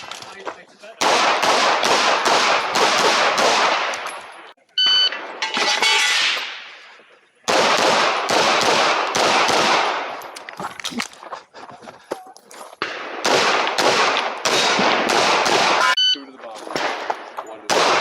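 Rapid bursts of pistol fire from a Canik Mete MC9 on IDPA match stages, loud sharp shots in quick strings separated by brief pauses.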